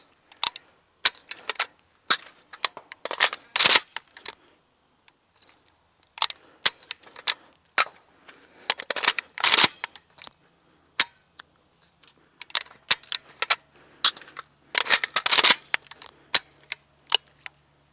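An AK47 is reloaded quickly again and again, with sharp metallic clacks and snaps of magazines seating and the action working, in tight bursts separated by short pauses, close and crisp.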